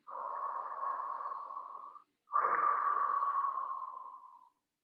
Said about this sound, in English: Big breath in. Longer breath out.